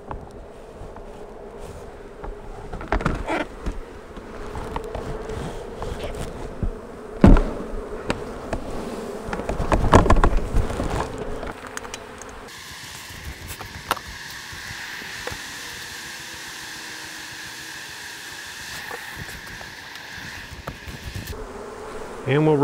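Honey bees buzz continuously around an open hive during a mite check, a droning hum with occasional clunks and knocks of handling nearby.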